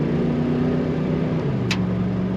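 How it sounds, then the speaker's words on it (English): A 1988 Chevrolet Monte Carlo SS with an automatic transmission cruising from inside, steady engine drone with a gentle pitch drop as a gear shifts, plus a brief faint click. "Nice firm shifts from the automatic transmission on this car."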